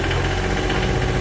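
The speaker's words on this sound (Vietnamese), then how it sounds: "cái này là mình lên ga nè" Diesel engine of a Komatsu PC20-6 mini excavator running steadily and loud, with a dense, continuous low rumble and vibration as the throttle is raised, with no voices.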